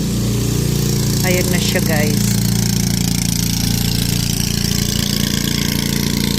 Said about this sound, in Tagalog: Ayun ang dadaan yung motor. At kunan natin tong dadaan ng motor.